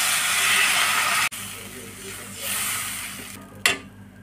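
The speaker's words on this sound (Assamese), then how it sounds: "এতিয়া মই আঞ্জাখনত পানী দি দিছোঁ।" Water poured into a fish curry with chili frying in a pan: a loud sizzling hiss that cuts off abruptly, then bubbling steam and a sharp clatter of utensils near the end.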